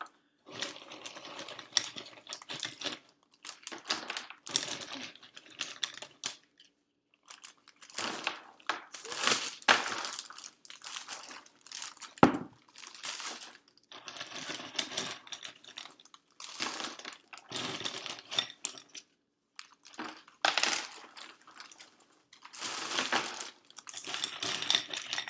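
Ice cubes are dropped and shoveled into a bigger plastic bag while making homemade ice cream, an irregular run of clattering clinks and crinkling plastic close by, coming in bursts with short pauses over about twenty-five seconds.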